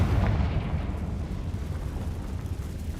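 A Confringo blasting spell in Hogwarts Legacy sets off a deep, rumbling explosion that booms loudly at first and then rolls on as a sustained low roar.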